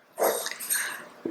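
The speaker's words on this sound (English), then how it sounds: "Sorry about my dogs." A dog gives a short, rough bark, then a few softer huffs and a final brief yelp, close and fairly loud indoors.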